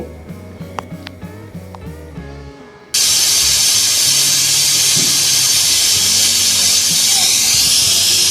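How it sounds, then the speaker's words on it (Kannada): A pressure cooker on a gas stove, holding pundi palya greens and lentils, bursts into a loud, continuous hiss of escaping steam after a few seconds of quieter kitchen sounds, and the roar holds steady to the end. "ಕುಕ್ಕರ್ ಇಟ್ಟು ಒಂದು ಮೂರು ವಿಜಲ್ ಬೇಯಿಸಿದ್ರೆ ಸಾಕು"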